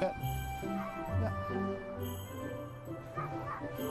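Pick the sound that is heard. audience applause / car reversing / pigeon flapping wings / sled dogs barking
sled dogs barking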